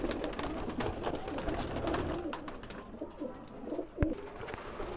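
Seth breed pigeons, a matched pair among birds kept for sale, murmur low rolling coos close by, with a sharp knock near the end and no voices.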